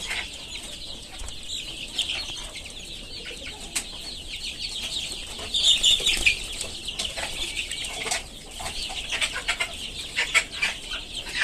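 Desi native chickens being raised for meat, a flock clucking and chirping with scattered calls and some wing flutters, moderately close and busier toward the middle, no talking.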